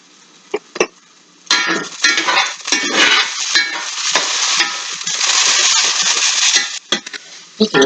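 Turnips and potatoes sizzle and crackle loudly in a big hot oiled skillet, with scraping and clicking from a utensil stirring them, and brief clatters near the start.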